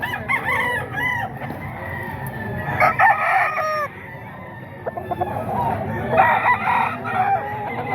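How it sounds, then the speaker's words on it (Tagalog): White Kelso gamecock roosters crow loudly and close by, several repeated cock-a-doodle-doo calls overlapping with clucks, with faint human voices in the background. "Baka gusto nyo ng mga ganitong manok oh."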